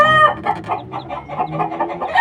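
Two-day-old chicks kept under a lamp in a pen, with a crowing cockerel at the start giving way to a close, busy stream of rapid clucking and peeping calls.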